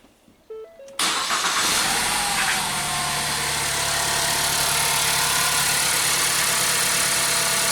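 A Ford Focus engine cranks and catches after a starter repair, then settles into a loud, steady idle close by, with a brief squeak before it starts.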